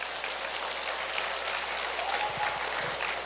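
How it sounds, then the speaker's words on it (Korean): Applause from a congregation at a Pentecost Holy Spirit gathering, a steady, moderately loud patter of clapping throughout with no speech over it. "박수"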